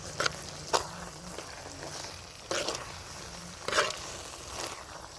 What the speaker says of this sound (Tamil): இப்போது இதை நல்லா வதக்கலாம்.